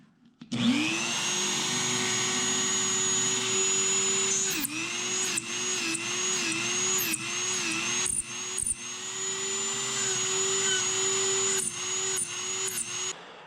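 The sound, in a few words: Dremel 3000 rotary tool with sanding bit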